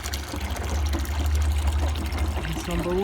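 A washing machine, loaded with a pot of soup and tin foil, drains water after its rinse cycle with a steady gurgling pour and trickle under a low motor rumble, loud and continuous throughout.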